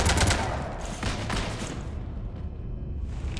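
Gunfire striking a ship in the Mass Effect video game, a dense rattling burst of shots loud at the start and then tapering into a softer, steady crackle.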